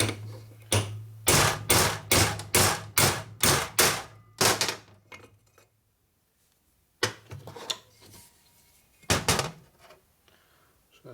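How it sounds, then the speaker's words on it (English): A hammer knocking a part out of a 1965 Harley-Davidson Panhead 4-speed transmission during a rebuild: a steady run of about ten sharp, close metallic blows, a pause, then a few more scattered strikes. "I just knock this one out with a hammer."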